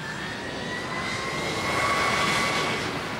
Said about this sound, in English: He pushed the throttles up. He said, "We go." The aircraft started to roll.